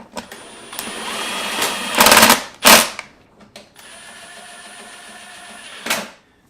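An impact gun drives the mounting bolts of an FMF Factory 4.1 titanium exhaust silencer on a 2018 Husqvarna FE 501, in several close, loud rattling bursts with brief pauses between them.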